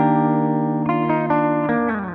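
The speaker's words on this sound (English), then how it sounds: "the multi-head based on the Roland RE101 Space Echo" A multi-head tape-style delay modeled on the Roland RE101 Space Echo, run through a Line 6 POD Go, smears sustained distorted guitar chords into repeating echoes with a reverberant wash and a fading tail, played alone.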